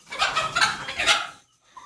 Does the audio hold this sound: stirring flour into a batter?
no